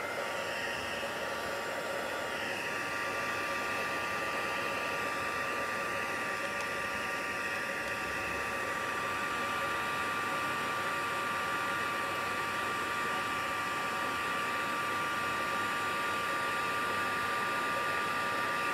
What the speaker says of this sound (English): we'll bring in our heat gun, and on setting 2